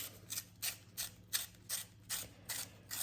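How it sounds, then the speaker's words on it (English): An aqua-green colored pencil turned in a sharpener, a regular ratcheting series of about seven short grinding clicks, close and fairly quiet with no talk. "I'm going to another green. It's going to be kind of this aqua color. I'll sharpen that."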